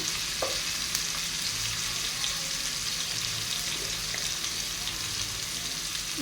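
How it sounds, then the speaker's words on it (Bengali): Spices with turmeric powder fry in a pan with a steady, even sizzle close up, and faint scrapes of stirring are heard now and then throughout. "লবণ দিয়ে ভালো করে ভেজে নেব।"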